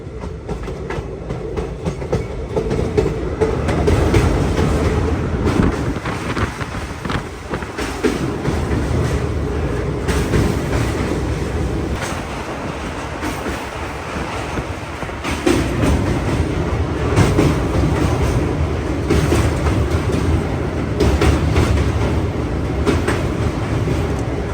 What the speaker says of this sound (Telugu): ఈ స్టేషన్ నుంచి ఇప్పుడే బయలుదేరుతుంది మన ట్రైన్